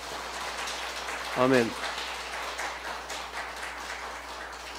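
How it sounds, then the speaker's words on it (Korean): A church congregation at a Sunday service applauds its Sunday school teachers, with a dense patter of clapping throughout and a voice briefly speaking over it. "자, 박수 한번 쳐주세요."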